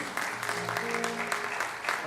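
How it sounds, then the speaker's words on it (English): A church congregation claps for the ushers during a Sunday celebration service, a continuous moderate round of applause with voices and a faint sustained tone underneath. "Let's give them a round of applause."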